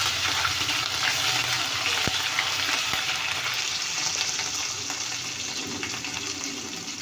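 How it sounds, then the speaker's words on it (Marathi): Ginger garlic paste frying in hot oil on a home stove, a steady close sizzle and hiss running throughout with a couple of sharp spatter pops, no talking. "आलं लसूण छान तेलामध्ये फ्राय करायचं"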